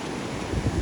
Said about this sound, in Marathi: ओ कसले लाट आहे त्याचं